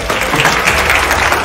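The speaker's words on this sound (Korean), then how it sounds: "정말 이때 박수 한번 쳐주셔야 됩니다." Audience applause at a Seoul creator and YouTuber event: a brief, dense burst of clapping from a crowd, loud and close, with no talk over it.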